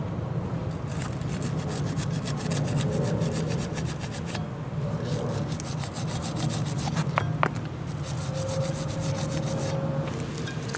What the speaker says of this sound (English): make sure to clean all the deposits on these plates